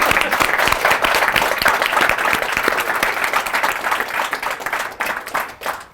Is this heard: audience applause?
yes